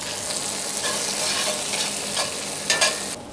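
Tomatoes sizzle in a hot frying pan over a barbecue, a steady bright hiss of frying with stirring scrapes toward the end.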